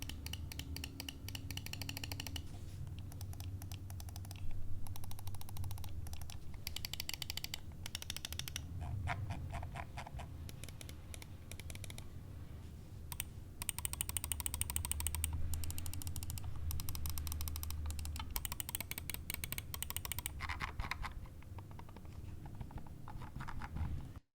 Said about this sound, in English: I'll do a click test on both of these mice so you can hear the difference between the two optical